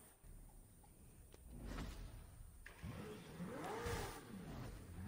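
A customized McLaren Senna in Forza Horizon 4 on the Goliath circuit revs up, its engine tone rising and sweeping in pitch and growing louder toward the end, with no talk over it.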